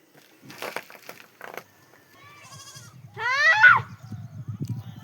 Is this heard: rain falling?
no